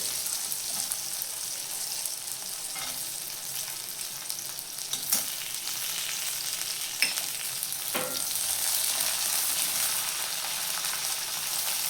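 Garlic with green chillies sizzles and fries in hot oil for a village-style Maharashtrian thecha. The crackling is steady and close, with occasional louder pops and stirring scrapes.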